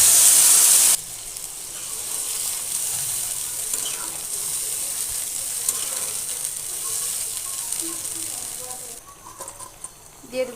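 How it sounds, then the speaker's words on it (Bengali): Water is poured into a cooking pot of rohu fish curry with green banana: a brief loud splash of pouring, then a steady sizzling hiss from the pot. "দিয়ে দেবো সামান্য পরিমাণে জল।"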